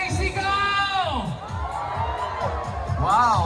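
A large crowd of 10K marathon runners in Pampanga shouts and cheers together, a loud sustained roar of voices with whoops rising near the end.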